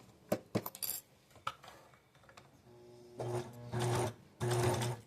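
Sewing machine stitching a zipper on a watercolor-technique zippered pouch: a few light taps and clicks at first, then three close bursts of rapid mechanical stitching separated by short pauses.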